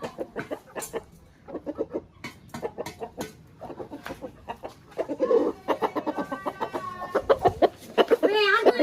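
A rooster clucks repeatedly nearby in short, choppy bursts, growing louder and more agitated toward the end, with brief voices mixed in.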